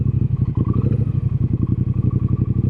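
A chrome Triumph Speedmaster motorcycle built by Baxter Cycle pulls away, its engine giving a close, loud, steady pulsing throb with a fast rhythmic beat.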